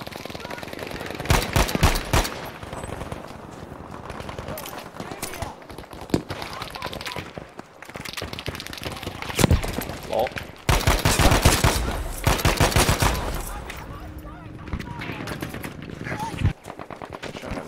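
Heavy gunfire in a Battlefield 5 match, an M1A1 Carbine among the weapons: dense bursts of automatic and rapid rifle fire, near and distant, crackling throughout with a few brief lulls, under a player's excited talk.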